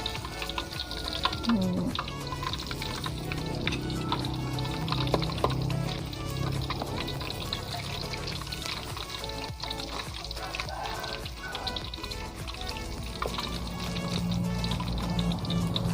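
Pieces of banana stem fry in hot oil, a steady dense sizzle and crackle running continuously at moderate level, with someone speaking intermittently over it.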